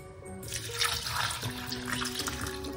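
Tap water gushes into a kitchen sink as ingredients are washed with vinegar, a steady close splashing stream that swells after a quiet start.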